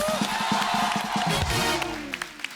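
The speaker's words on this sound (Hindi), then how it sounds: "एक बार श्रद्धा और सुशांत के लिए जोरदार तालियां।" Studio audience on a Hindi comedy talk show applauds and cheers as two film stars are welcomed, a dense, loud wash of clapping and crowd noise with music under it that thins toward the end.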